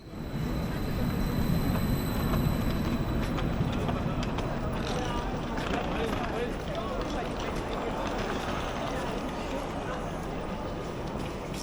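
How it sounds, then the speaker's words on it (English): A Stadler KISS double-deck train pulling into a German station, arriving from Chemnitz, a steady loud rumble and rolling noise that holds throughout and eases slightly toward the end. "Our train arrives inbound from Chemnitz a few minutes behind schedule."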